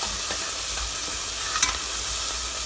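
Beef curry sizzles softly in a pan while being mixed, a steady close hiss with faint scraping of a spoon and one brief clink, no talking.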